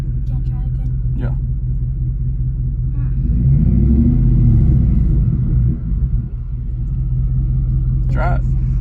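A car engine rumbles close by and swells in a revving surge as a learner driver eases off the clutch, then settles back to a steady run.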